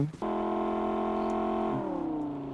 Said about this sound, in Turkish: Sağda bagi sesi. Yukarıda bagi.